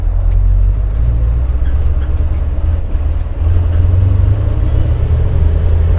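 A 1000 hp KAMAZ truck engine roars loud and close, its deep low rumble holding steady and then swelling again as it accelerates, with no voices over it.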